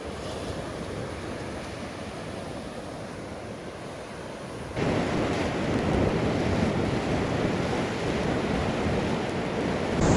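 Ocean surf washing in along the Gulf of Mexico shore at evening, a steady broadband roar of breaking waves with wind buffeting the microphone, growing louder partway through.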